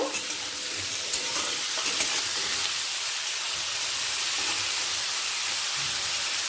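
Potatoes sizzle steadily in a pan over a medium gas flame as salt is stirred in, a continuous close hiss of frying with a few faint scrapes of the spoon and no voices.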